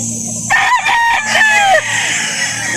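A rooster crows loudly and close by at a chicken market, one drawn-out cock-a-doodle-doo over a low background hum, followed by fainter clucking.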